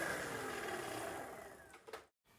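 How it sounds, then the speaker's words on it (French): Livall Pikaboost e-bike motor running with the wheel lifted off the ground and pedalled, a quiet steady electric whine that winds down and stops near the end, faint and alone. "en soulevant juste la roue et en donnant un coup de pédale, le moteur n'est pas bruyant"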